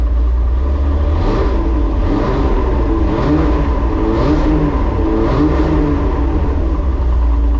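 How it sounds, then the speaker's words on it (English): A drift car's engine being revved with pressure in the oil sump: a loud, continuous engine roar with several rising rev pulses over steady rumble, close by, no talk. "I'm just going to give it a bit of a rev"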